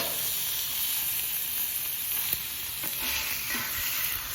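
Pork chops sizzling on a Camp Chef flat top griddle, a loud, dense, unbroken frying hiss held close with a couple of faint ticks partway through and no talk.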